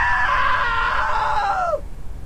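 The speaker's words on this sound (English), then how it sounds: "Now that was a great scream." A long, high-pitched scream from a character in the video game What Remains of Edith Finch, loud and sustained, bending downward before cutting off abruptly, with no talk over it.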